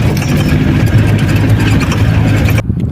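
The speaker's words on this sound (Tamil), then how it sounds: "ஜீப் ரைடு ஒன்று போறோம் நாங்க இப்போ" A jeep engine runs steadily and loud before a jungle ride, a constant rumbling drone that cuts off sharply near the end, leaving a quieter engine tail.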